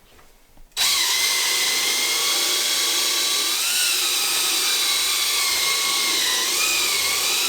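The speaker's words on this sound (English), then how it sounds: "And we're going to go and drill." A power drill bores a hole through a rubber hockey puck bump stop for a Jeep Wrangler, starting abruptly after a quiet moment and running loud and steady with slight pitch wavers as it bites.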